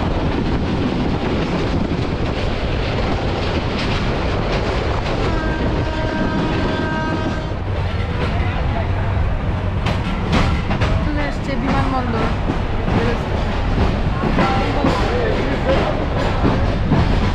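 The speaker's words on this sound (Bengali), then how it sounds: "ট্রেনের যে ঝিকঝিক ঝিকঝিক সাউন্ড আছে না" A passenger train rolls steadily along the rails near an airport railway station, with loud, continuous clickety-clack and rumbling wagon noise plus wind buffeting the microphone throughout.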